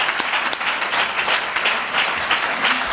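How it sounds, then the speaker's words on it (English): A congregation gives a sustained round of applause after a religious lecture, steady dense clapping throughout with little else heard. "Let's give Brother Akbar another well-deserved round of applause for that wonderful lesson today"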